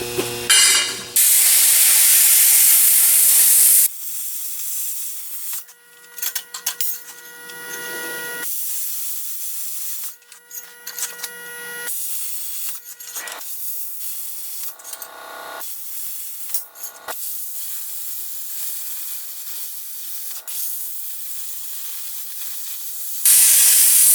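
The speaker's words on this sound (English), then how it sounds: "Plasma cutter cuts metal." A plasma cutter cuts 3/8 steel plate with a loud, harsh hiss in long bursts, broken by quieter gaps and brief stops.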